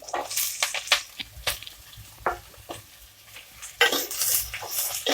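Ridge gourd, soya chunks and onions are stirred in a pan as the curry cooks. A spoon scrapes and clinks against the metal in uneven strokes over a soft sizzle, all close by.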